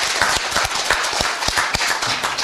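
An audience at a Korean forum on cultural heritage applauds university students, a steady patter of many hands with sharper individual claps standing out, close and continuous throughout.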